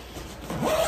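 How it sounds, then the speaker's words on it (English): Zipper drawn shut along a Zoe Tour+ stroller travel bag, one quick continuous zip rising in the second half, close and clear with no talk. "it just zips up really nice."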